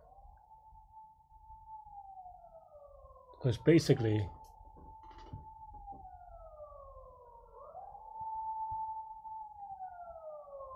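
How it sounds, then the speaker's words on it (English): Outdoor siren wailing steadily at a distance, with a long rising and falling tone heard all through and a brief burst of speech over it. "sorry about the siren."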